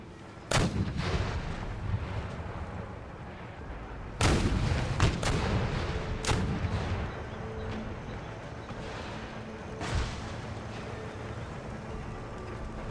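Cannon and howitzer artillery booms out in the video game Empire: Total War. Several sharp, loud blasts are scattered over a steady battle din, two of them clustered close together near the middle and one more later on.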